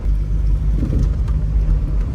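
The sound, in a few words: 1986 Volvo 240 four-cylinder engine running during test drive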